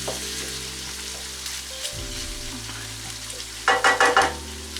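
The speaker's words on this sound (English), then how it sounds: "All we want to do is like soften down the onions" Onions and garlic softening in a pot for Greek beef stew stifado, a gentle frying hiss with a few stirring scrapes and a short burst of louder clatter near the end, no talk.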